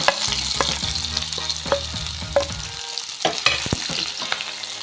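Maggi noodles frying in a pan and being stirred: a steady, close sizzle runs throughout, broken by scraping and clinking spatula strokes against the pan, with no voices.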